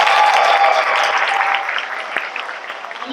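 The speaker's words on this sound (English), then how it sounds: "Let's give Dalton Sherman another round of applause." School district convocation crowd applauds for Dalton Sherman, steady loud clapping from a large audience that eases slightly toward the end.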